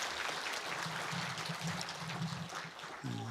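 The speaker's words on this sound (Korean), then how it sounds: "다시 한번 뜨거운 박수 부탁드리겠습니다" A congregation claps at a Korean Presbyterian Sunday service after an infant baptism, dense sustained applause filling the church over a low hum, with a brief tonal sound entering at the end.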